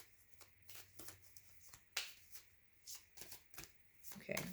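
A deck of tarot cards is shuffled by hand in quick, soft riffling and tapping bursts close by, with a person talking at moments.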